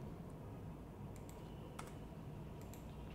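Quiet typing of an Excel formula on a computer keyboard, a few soft, sparse key clicks over a steady low background hum.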